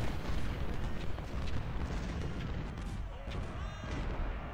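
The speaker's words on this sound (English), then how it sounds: "I moved all the artillery up, and they're now getting lovely shots on these guys" Cannon fire in a Civil War strategy game, a loud, dense barrage of overlapping booms and crackling gunfire rolling continuously like distant battle noise, no voices.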